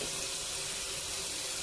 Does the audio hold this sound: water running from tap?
yes